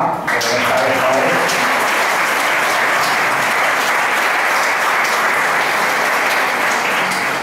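Loud, sustained applause from a crowd at a jota music concert, dense clapping that rises sharply at the start and continues steadily throughout.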